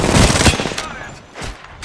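Gunfire in Apex Legends rattles in rapid, dense bursts, loud and close, with a brief lull before another short volley.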